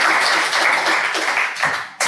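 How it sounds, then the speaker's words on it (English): An audience applauds a speaker at a talk on psychedelics and belief, a dense, even patter of clapping that stays steady for about two seconds before it cuts off. "let's give him a warm round of applause"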